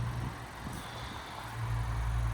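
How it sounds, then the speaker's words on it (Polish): A started Opel Grandland X with an automatic gearbox and 45,000 km on it idles with a steady, low engine rumble that swells slightly toward the end. "Samochodzik w tej chwili jest odpalony."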